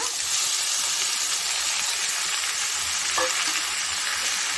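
Chana dal and cut beetroot frying in a pan, stirred steadily: a continuous close sizzling hiss with scraping and stirring textures, and a small clink near the end, with no voices.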